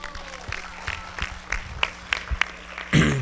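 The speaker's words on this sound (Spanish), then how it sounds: "Un fuerte aplauso para él." An audience at an evening civic event claps in a quick, fairly even rhythm for a few seconds. The claps are sparse and mid-distance, and a voice begins speaking as they end.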